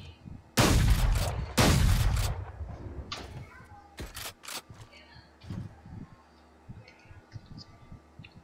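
Gunfire from the Bucky weapon in a first-person video game: two loud close blasts, then several sharper shots and clicks in quicker succession, with a voice talking faintly in between.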